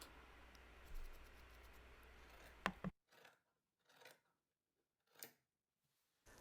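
Scissors cutting through stacked fabric layers, a soft snipping over low background hiss, then a few faint separate snips in near silence, close and quiet.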